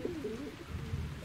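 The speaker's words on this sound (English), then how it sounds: "that pigeon's over here peddling drugs" A pigeon in the video game Little Misfortune coos in a low, soft, warbling call, close and clear over a quiet background.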